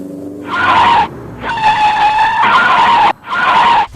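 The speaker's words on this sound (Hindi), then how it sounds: "अरे मेरी गाड़ी झटके मारकर रुक गई। मेरी गाड़ी के टायर भी पंचर हो गए।" A cartoon car skids to a halt over spiked nails spread on the road, with three loud, harsh tire screeches in quick succession separated by brief gaps, up front and alone without voices.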